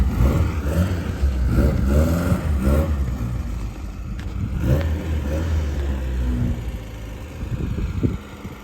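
A racing car's engine running at close range, with a loud, steady rumble that rises and falls in pitch as it is revved.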